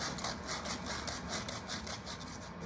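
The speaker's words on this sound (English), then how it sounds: "before we cut, we should sand first" Steady rhythmic rasping of abrasive rubbing back and forth on copper tubing, close and continuous, about a dozen quick strokes.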